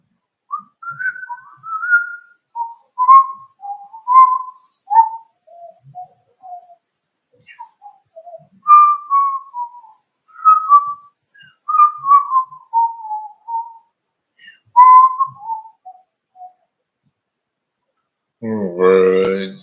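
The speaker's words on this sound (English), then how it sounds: "So the whistling intro was not correct." A person whistles the melodic intro of a song, a clear solo tune of sliding phrases with short pauses, followed by a brief burst of voice at the end.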